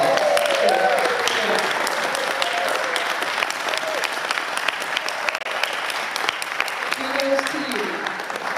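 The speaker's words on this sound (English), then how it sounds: "Let's give her a great round of applause." Sustained audience round of applause at a school community gathering honoring a volunteer and educator, steady and dense clapping filling the room throughout, with a voice faintly audible beneath it.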